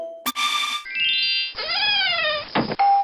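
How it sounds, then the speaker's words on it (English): A string of Yahoo Messenger notification sounds plays one after another with no talking: a sharp click, a bright tone, chiming and rising synthetic alert tones, a buzzy burst, and a final short beep. "these are some of the sounds from Yahoo Messenger back in the day"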